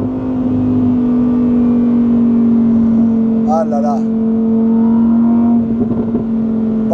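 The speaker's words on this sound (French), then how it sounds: "Et quand je rétrograde, écoute." A supercar's engine drones at high speed, then blips and growls through a downshift, loud and close from inside the cabin, while a voice exclaims over it.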